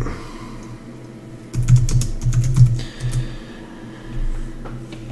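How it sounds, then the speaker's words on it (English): A computer keyboard rattles in a quick burst of close key clicks lasting about a second and a half, followed by a few scattered taps against a quiet room hum. "to type in your circuit descriptions, you just click on it and type in whatever you want."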